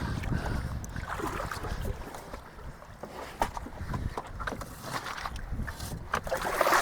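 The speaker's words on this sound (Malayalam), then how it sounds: "ഇവിടെ ചുമ്മാ ഒരു ബോട്ട് കിടന്നിങ്ങനെ അങ്ങോട്ടും ഇങ്ങോട്ടും ഒലയുന്നുണ്ട്" A small moored boat with oars rocks on the water at Lakshadweep as someone climbs in: irregular sloshing, hollow knocks and creaks against gusty wind noise on the microphone.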